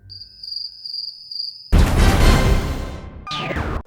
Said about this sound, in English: Cricket sounds are funny.